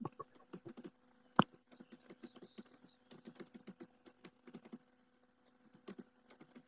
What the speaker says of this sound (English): Sorry, I'm typing in the chat.